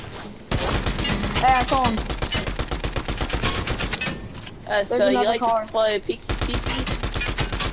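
Rapid bursts of automatic gunfire from a multiplayer video game, loud and close, pulse in dense rhythmic volleys over most of the clip while players talk.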